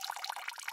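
Real water suddenly pours down onto a stage, giving a brief burst of close splashing patter and dripping, fairly faint and with no voices.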